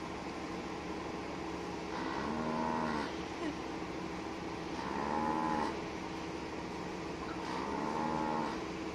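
A cow on a farm gives three drawn-out moos at regular intervals, moderately close over a steady background hum from the farmyard, with no clear speech.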